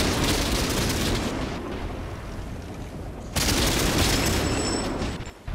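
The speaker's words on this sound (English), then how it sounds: "Okay, there's artillery right there." Booming artillery and gunfire in the tank game World of Tanks on PS4, a dense, continuous barrage of loud blasts and crackling shots that surges sharply louder about midway through.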